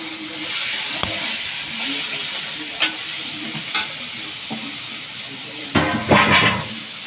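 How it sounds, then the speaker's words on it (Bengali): Pointed gourd and stalks fry in hot oil with salt and turmeric, giving a steady close sizzle and hiss broken by a few sharp knocks and a burst of stirring and scraping near the end. "এবার পটল ডাটা সব ভাজতে দিয়ে দেবো।"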